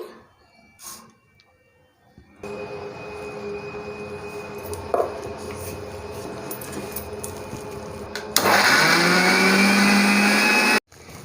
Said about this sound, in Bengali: এই কোড়া নারকেলটাকে আমি ব্লেন্ডারে দিয়ে ব্লেন্ড করে নেব